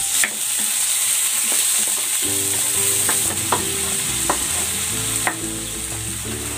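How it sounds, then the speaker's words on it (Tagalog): Garlic and tomato sauté in a pan for a monggo mung bean dish, with a loud, steady sizzle and frying crackle joined by occasional stirring scrapes and clinks, close up with no talking. "Lagay na rin natin tong bawang. Lagay ko na rin dito yung kamatis."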